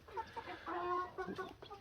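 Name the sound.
young roosters crowing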